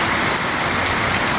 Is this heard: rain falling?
yes